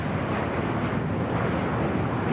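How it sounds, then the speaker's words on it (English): A Southwest Airlines Boeing 737-800 arriving from Las Vegas roars on approach at LAX, a loud, steady broadband jet rush filling the whole short stretch. "This is Southwest Airlines 2136 coming in from Las Vegas on the 737-800."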